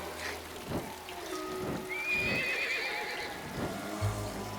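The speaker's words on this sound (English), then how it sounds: "Oh, this rain!" Steady rain patters in the background while a horse whinnies loudly nearby, with clopping hooves.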